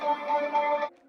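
A short, sustained synth pad chord hums with soft shimmering tones, then cuts off abruptly after about a second.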